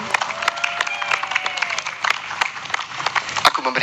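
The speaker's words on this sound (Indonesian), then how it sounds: "Boleh kita tepuk tangan dulu buat Ryan." Wedding guests at a church wedding blessing clap for the groom, Ryan, in a brisk scattered round of applause with a voice or music tones underneath.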